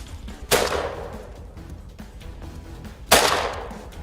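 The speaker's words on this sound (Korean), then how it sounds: "산속에 울려 퍼지는 총소리" Two sharp, loud gunshots ring out about two and a half seconds apart in mountain woods during a wild boar hunt, each blast echoing and decaying over a faint background.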